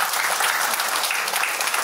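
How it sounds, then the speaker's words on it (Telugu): An audience at a university batch success meet claps loudly and steadily, a dense, even wash of applause that runs throughout with no voices over it. "ఇదంతా మనం గట్టిగా చప్పట్లు కొట్టొచ్చండి ఈ విషయాలు."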